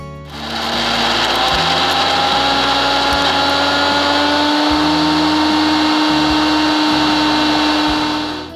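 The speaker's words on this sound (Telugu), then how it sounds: "ఇప్పుడు మిక్సీ పట్టుకుందాం." Kitchen mixer grinder blending a cooled bottle gourd and mint chutney mixture, a loud close motor whine running continuously with pulsing rhythmic grinding, starting up and stopping at the ends.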